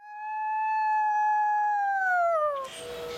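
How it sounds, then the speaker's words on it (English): A long, smooth wolf howl from a pack at the Conservator Center, clear and sustained with harmonic layers, sliding downward near the end before fading into a brief rustle. "That's our wolf pack."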